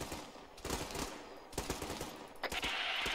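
Rapid covering gunfire in a military shooter video game, with dense bursts of automatic shots crackling continuously for a few seconds, heard fairly faintly and without any speech.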